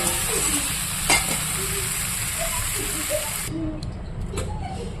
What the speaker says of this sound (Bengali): মশলা দিয়ে কষিয়ে নিলাম